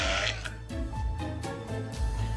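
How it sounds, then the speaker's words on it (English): A loud, drawn-out burp after drinking Topo Chico sparkling mineral water, heard close to the mic as a few rough, croaking pulses over about two seconds. "why does Topo Chico make me burp so loud?"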